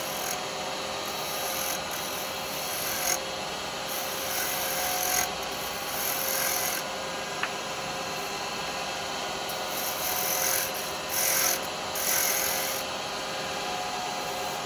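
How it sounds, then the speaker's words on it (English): A spindle gouge takes light shear cuts on a wooden duck egg cup spinning on a lathe, giving a steady close rasping hiss with a constant motor hum and brief louder scraping bursts. "I'm just going to make a couple of little shear cuts on that"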